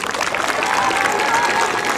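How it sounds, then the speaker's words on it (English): Applause from an audience at a school staff gathering honoring award-winning teachers, a dense, loud wash of clapping throughout with a few voices mixed in. "So give everybody a big round of applause."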